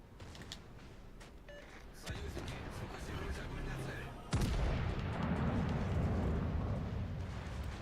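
Warship secondary guns in World of Warships: Legends firing as deep booming shots, a couple of sharp blasts followed by a rumbling roar, with a voice talking over the gunfire.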